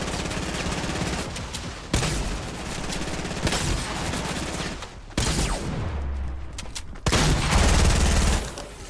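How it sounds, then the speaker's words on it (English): Bursts of rapid automatic gunfire and scattered single shots ring out in a Fortnite battle royale match, loud and dense, broken by brief pauses between volleys. "Someone was shooting me over here."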